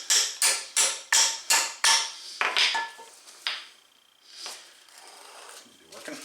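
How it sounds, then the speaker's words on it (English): A screwdriver works behind a snap ring on a Mercedes W210 E320 front suspension, giving a run of sharp, evenly spaced metallic clanks followed by a few scattered scraping knocks, close and fairly quiet. "the screwdriver behind the snap ring to just get it broken loose."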